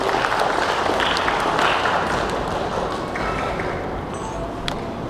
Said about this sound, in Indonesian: Beri tepuk tangan buat saudara Meli.